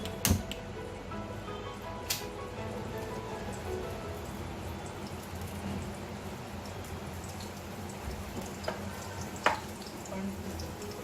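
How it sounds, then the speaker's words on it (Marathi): A steady, crackling sizzle of chillies frying in hot oil in a kadai, with a few sharp pops and spits rising above the constant hiss. "तेल तापवून मिरच्या भरल्या"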